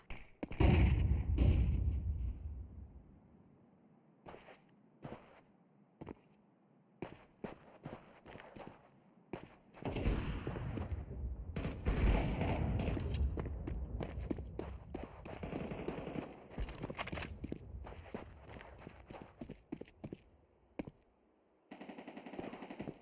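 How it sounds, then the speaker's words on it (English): In a Counter-Strike: Global Offensive match, a flashbang is thrown amid bursts of gunfire, sharp cracks and rapid volleys mixed with footsteps, coming and going in loud clusters with quieter gaps. "Throwing flashbang."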